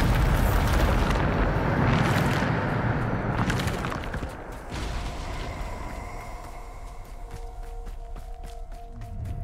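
A Bombarda spell explodes in Hogwarts Legacy, a big, loud blast with a sustained rumbling roar that slowly settles into a lower, lingering rumble with faint tonal game sounds on top.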